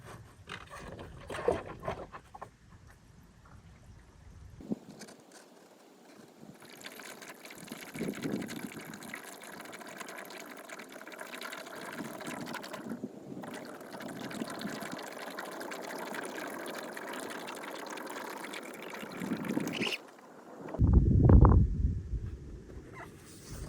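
Water pours steadily into a 2.5 gallon water container inside a camper van in the Colorado high country, a continuous gushing fill lasting about fifteen seconds before stopping, followed by a brief louder splash.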